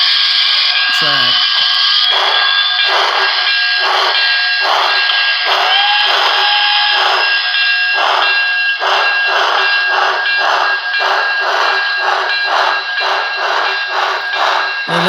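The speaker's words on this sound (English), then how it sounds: "Now the chuffing sounds really good in my opinion, but when it goes up to speed it just sounds weird." A BLI Paragon3 PRR L1s diecast hybrid model steam locomotive chuffs in a steady, evenly spaced rhythm of loud exhaust beats, layered over a continuous high whistle-like tone throughout.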